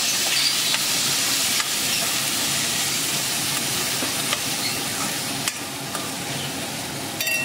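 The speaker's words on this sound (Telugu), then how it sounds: "బఠానీ వేసుకొని కూడా ఒకసారి చక్కగా కలుపుకుందాం." Green peas stirred into a simmering potato and pea curry in a pan, making a loud, constant broadband sizzle and hiss with soft scraping strokes and occasional clinks of the spoon, with no talk.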